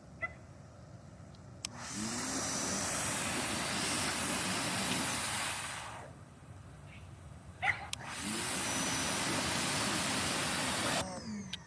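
A Hyper Tough 1600 PSI electric pressure washer sprays in two long bursts of loud hissing water, separated by a pause where the motor hum and a few clicks remain.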